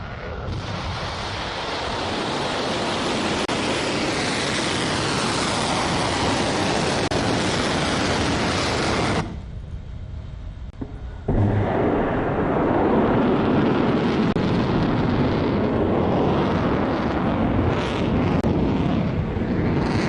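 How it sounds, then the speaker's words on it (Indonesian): Loud, sustained roar of an Iranian missile launch aimed at Israel, a dense broadband rush with a wind-buffeted, surf-like texture that briefly drops away near the middle before the roar returns at full strength. "Anda sedang melihat tembakan rudal dari salah satu wilayah Iran yang menyasar Israel"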